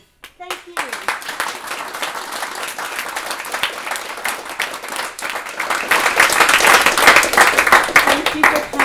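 Applause from an audience at a Falling Walls Lab event in Melbourne starts with a few scattered claps. It builds into loud, sustained clapping that grows fuller toward the end.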